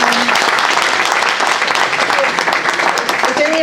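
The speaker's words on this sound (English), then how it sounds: "So a big round of applause for people who joined." An audience at a Marin Coalition political meeting claps to welcome new members, a close burst of dense applause that runs throughout the short stretch, with some voices mixed in.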